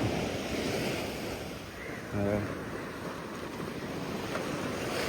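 Steady surf and ocean waves wash continuously on Kazhakkoottam beach with wind noise buffeting the microphone, a brief rumble of a boat or motor in the middle.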